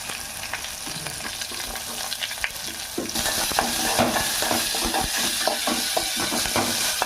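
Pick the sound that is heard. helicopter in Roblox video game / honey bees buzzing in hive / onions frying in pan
onions frying in pan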